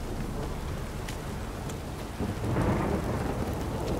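A rainstorm in The Witcher 3 pours steadily, then a deep thunder rumble swells in about halfway through and lingers under the hiss of rain.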